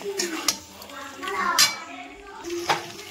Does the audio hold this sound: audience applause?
no